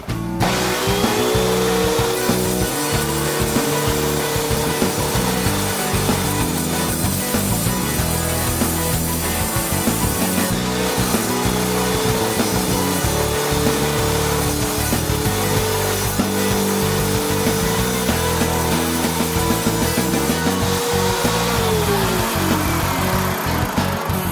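An Evolution R210 compound mitre saw runs continuously and loud, its motor whine rising and settling through repeated cuts into wood, with no talking.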